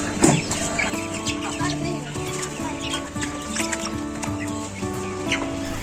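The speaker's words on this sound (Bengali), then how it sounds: "সবগুলো হচ্ছে দেশি মুরগি আমাদের।" Desi chickens, including Brahma-type birds, clucking together on a poultry farm at morning feeding time, a steady overlapping chorus of clucks and short calls at moderate distance, no talking.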